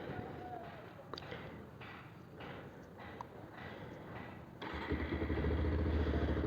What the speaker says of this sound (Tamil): இப்போ வந்து பைக் ஆன் பண்ணிக்கலாம்